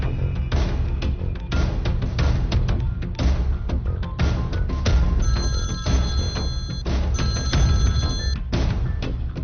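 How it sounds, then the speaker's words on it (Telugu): A telephone rings repeatedly in a tense Telugu film scene, its bright electronic bell pulses sounding in bursts over a dense, loud background score with no talk. "ఏయ్ దుగ్గల్ కి ఫోన్ కొట్టు"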